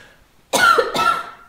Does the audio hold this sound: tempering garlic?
no